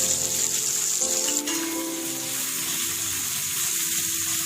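Onions frying in hot oil with whole cumin and crushed cardamom for a simple chicken curry, giving a loud, steady hiss with a faint ringing tone that shifts briefly early on.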